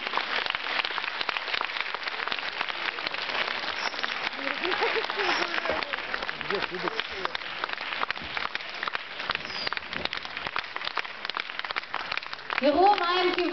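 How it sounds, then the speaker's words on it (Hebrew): Audience applause at a ceremony in Kiryat Motzkin as guests are invited up to present a special trophy, a steady dense clapping that fills the whole stretch, with a voice speaking briefly near the end. "עוד כפיים."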